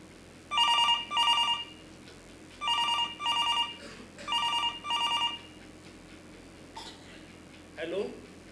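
Telephone ringing on stage during a theatre play, three double bursts of a bright electronic bell ring in clear succession, followed by faint stage noise and a brief voice.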